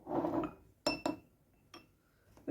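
Two spoonfuls of aloe vera gel are scooped from a jar for a homemade linden flower serum, with a soft scraping smear first, then sharp glassy clinks of spoon against jar, a fainter tap later and another knock at the end.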